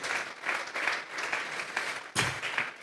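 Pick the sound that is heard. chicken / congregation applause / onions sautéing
congregation applause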